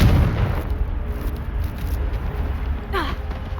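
A Confringo fire spell blasts in Hogwarts Legacy, a heavy explosive thump up front that settles into a crackling, rumbling tail, with a brief swishing effect near the end.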